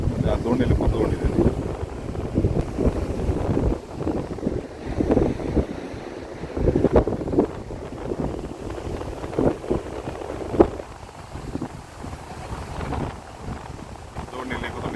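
Riding in a small fishing boat on open water, with steady wind buffeting the microphone and a constant rush of water and motion, while voices talk intermittently over it.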